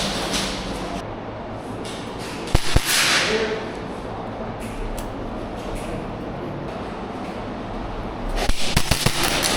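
An Arcturus OSPREY Hi-Capa airsoft pistol fires during close-quarters indoor gameplay, with a sharp burst of snappy shots, a quieter stretch and then another quick cluster of shots close by over background noise.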